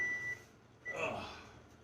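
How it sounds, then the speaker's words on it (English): A kitchen timer beeps during Mexican rice cooking, a steady high tone that stops and then sounds briefly again, with soft voices in the background. "let me turn off the timer"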